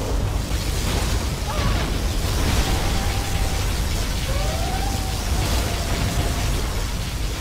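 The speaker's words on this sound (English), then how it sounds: "Particle cannon activated." A particle cannon fires in the real-time strategy game C&C Generals Zero Hour, a steady roaring, rain-like hiss with thin, sweeping whine tones drifting through it over several seconds.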